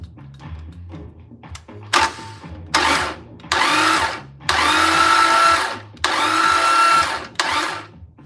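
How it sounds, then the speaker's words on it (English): 1969 Dodge Super Bee 383 V8 turned over by its starter on battery power during an engine build: several separate whirring cranking bursts of a few seconds each, close and fairly loud, with quiet gaps between them. "this should crank over with the battery and everything right now."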